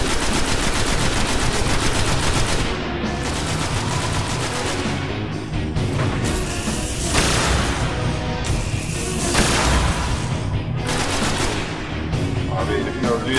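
Dense, continuous automatic gunfire and explosive booms fill a Destiny beta match on PS4, a loud sustained barrage of rapid shots with no pause throughout.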